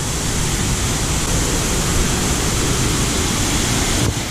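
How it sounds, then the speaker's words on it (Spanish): Rushing water from a river or waterfall in Misiones province, Argentina, makes a steady, loud, broadband roar that holds unbroken throughout, with no voices over it. "Ya cuando venís llegando ya escuchás el ruido del agua."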